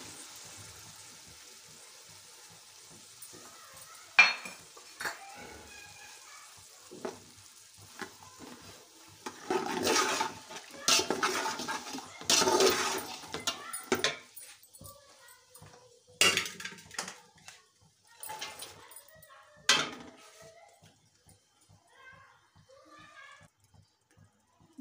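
Macaroni is stirred with chicken stock in a pot, giving scattered wet scraping and sloshing bursts of varying loudness over a quiet kitchen background.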